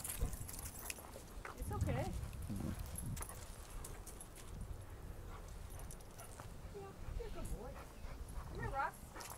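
At an off-leash dog park, a dog injured by a German Shepherd whimpers and gives faint yips amid steady outdoor noise, with people talking nearby throughout.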